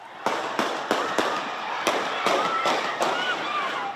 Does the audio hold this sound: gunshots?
yes